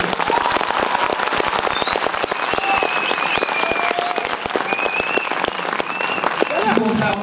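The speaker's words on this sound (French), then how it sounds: "Alors Isabelle Funaro, je vous demande de l'applaudir," An audience applauds Isabelle Funaro at a film premiere screening in a cinema, with dense, steady clapping throughout and faint whistles and cheers rising above it.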